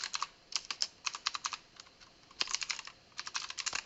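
Quick, light keystrokes rattle on a computer keyboard as a file name is typed, coming in uneven bursts with short pauses, close and fairly quiet with no talking.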